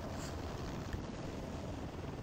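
An Airbus H125 (AS350B3) helicopter in flight on a sling-load approach gives a steady, unbroken broadband rotor and turbine roar that stays at an even loudness throughout, with no voices.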